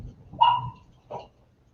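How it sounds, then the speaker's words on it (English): A dog barks twice indoors, one fairly loud bark followed by a softer second one, with a quiet room behind. "I got a barky dog here."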